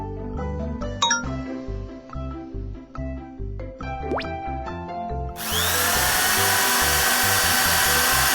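Cartoon excavator drill doing foundation piling at a bridge build: clinks and clanks with a rising whine over a musical bed, then a loud, steady broadband drilling roar that sets in partway and runs to the end.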